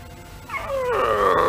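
A cartoon dog howls, a rising, wavering drawn-out cry that swells and holds at close range.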